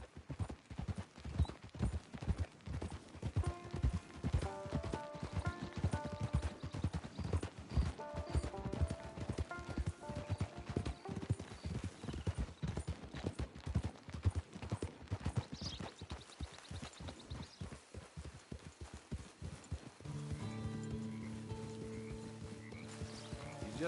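Horse hooves clip-clop steadily at a riding pace in a PS4 video game, a continuous rhythmic trot that eases near the end as other tones come in.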